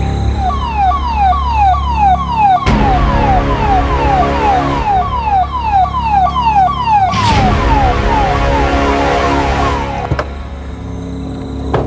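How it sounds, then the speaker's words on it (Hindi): An ambulance siren wails loud and near in repeated rising and falling sweeps, with two brief bursts of harsh noise breaking in and road traffic rumbling underneath. "एम्बुलेंस"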